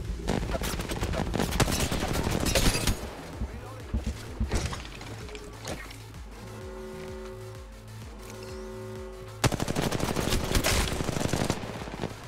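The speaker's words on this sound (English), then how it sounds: "Ooh, shots." Automatic gunshots crackle in Apex Legends Mobile, heavy bursts of rapid fire at the start and again near the end, with quieter rhythmic mechanical sounds and distant shots in between and some voices over the action.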